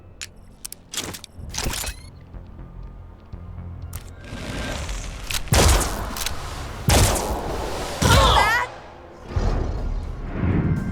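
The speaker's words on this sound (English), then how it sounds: "let's attack and start things off with Selma, who thanks to Alpinist and Twitch Shot can get 2 critical hits here with our most powerful weapon" Gunfire from an attack in the tactical video game Mutant Year Zero: several sharp, loud shot bursts spaced a second or so apart over game sounds, with a few smaller clicks early on.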